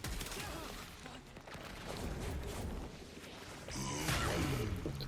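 The Coda Bubonico gun fires in the Warframe video game, a fast stream of close shots layered with impact crashes and game effects, louder toward the end.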